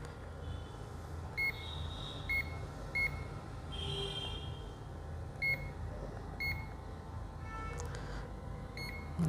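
A multimeter gives short continuity beeps while probing a dead Samsung F23/M23 phone board during repair, with several brief, evenly spaced bleeps over a steady low hum in a quiet room.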